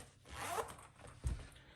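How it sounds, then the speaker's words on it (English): A zipper is drawn up the side of a Dr Martens Jadon boot in two quick close pulls, a soft rasp followed by a sharper closing zip, heard alone and quietly. "Let me zip it up first, yeah?"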